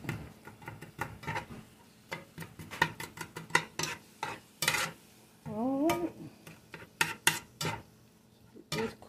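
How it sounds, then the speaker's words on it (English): Ground beef browning in a pan for tacos, stirred with quick repeated scrapes and clacks of the spoon against the pan over a low sizzle, close and rhythmic, with a brief wavering tonal squeak midway and no speech. "we just gonna keep on stirring it until it brown up"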